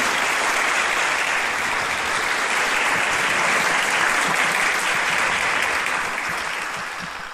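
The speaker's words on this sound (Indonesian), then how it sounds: "Kasih tepuk tangan untuk Tuhan." A church congregation applauds for God, dense sustained clapping filling the room at full strength before easing slightly toward the end.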